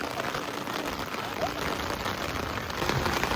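Steady rain falling at Magic Kingdom theme park, a dense, even hiss of drops on surfaces throughout, with faint voices in the background.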